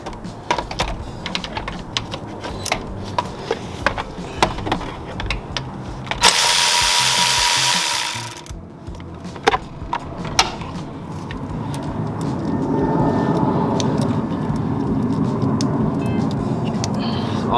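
A wrench works a bolt loose on the engine of a Ford F150 with a 5.0 engine during a water pump replacement, giving a series of sharp metallic clicks and ratchets, with a loud burst of hiss partway through.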